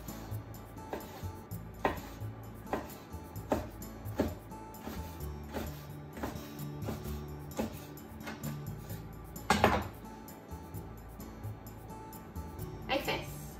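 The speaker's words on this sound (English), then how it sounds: "Let's cut it into bite size." Knife cutting squid into bite-size pieces on a board, a steady run of sharp, close chops about every second, with one heavier knock midway.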